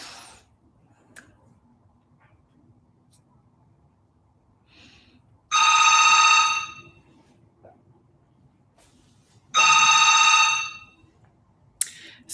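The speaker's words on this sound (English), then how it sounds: "So sorry about the phone." A hotel room telephone rings in two long, loud bursts a few seconds apart, with a quiet room in between and a faint clunk at the end.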